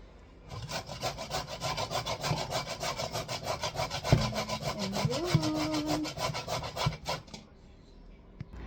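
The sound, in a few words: grating peeled cassava by hand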